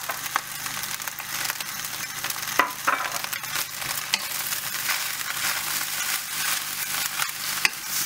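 Vegetables stir-fry for pork fried rice in a pan, giving a steady, loud sizzle with repeated scraping and tossing of the spatula throughout and no talk.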